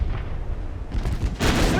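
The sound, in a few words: battleship guns firing broadside, video game Ultimate Admiral Dreadnoughts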